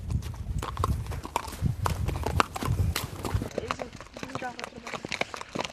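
Racing horses being trained by a horse trainer clip-clop along in a rapid, uneven hoof rhythm, close and fairly loud, while people talk.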